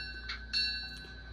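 A Kato model locomotive's DCC sound decoder rings its bell, with a few quick electronic clangs heard faintly over a steady hum.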